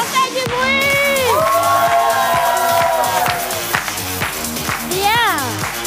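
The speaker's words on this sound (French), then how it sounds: "On fait du bruit!" Audience at a lively outdoor show cheering and shouting, with whoops and high excited voices over a loud, continuous crowd roar and some clapping.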